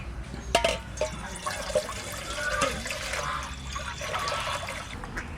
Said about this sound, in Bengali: জল নিয়ে নিই গামলায়